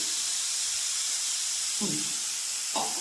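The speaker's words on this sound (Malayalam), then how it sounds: "ഒരു പിഞ്ച് ഉപ്പുനീര് ഒഴിച്ചു കൊടുക്കുവാണ്" Salt water splashed into a hot pan of coconut masala for a Kerala vanpayar thoran, giving a steady bright hiss with two quick sizzling bursts near the end.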